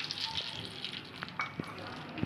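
Soft crackling sizzle of cinnamon, cloves and cardamom frying in hot oil, with a few light clinks of a utensil against the pan.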